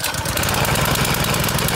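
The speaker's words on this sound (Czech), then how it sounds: "Teď už jenom vypnete sytič a motor je v plných otáčkách." Petrol engine of a VARI 16 ton log splitter running loud and steady at high revs, a continuous close mechanical drone with no speech.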